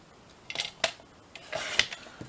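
Scissors snipping through pouch pieces for a recycled pocket pouch, a few quick crisp cuts in two short bursts, close and fairly quiet, with no talk.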